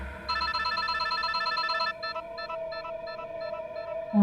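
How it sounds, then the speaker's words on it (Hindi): A phone rings in a Hindi TV drama scene with a steady, repeating electronic ringtone of bright stacked tones. A long chime gives way to a quicker pulsing pattern over low background noise. "फोन बज रहा है तुम्हारा।"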